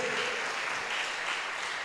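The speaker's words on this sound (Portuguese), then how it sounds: "Oh, aplauda a palavra de Deus." Applause fills a church, a dense, even roar of many hands clapping together at close range, sustained throughout.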